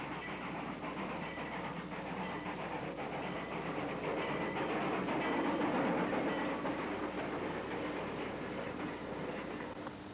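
Construction railway trains with locomotives and cars working at the Abitibi Canyon Dam site, a steady rumbling rolling noise with faint clatter that holds loud and continuous throughout, with no voices.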